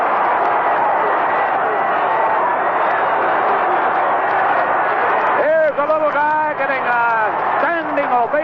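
Crowd roar at a Cubs home game as Jerry Morales rounds the bases after a line-drive home run into the left-center bleachers, a loud sustained cheer with a radio announcer talking over it throughout.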